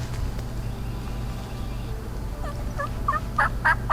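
Osceola wild turkey gobbling in thick Florida-style woods during a hunt, the gobbles arriving as several quick rippling bursts that grow louder near the end, fairly close over steady outdoor background hiss.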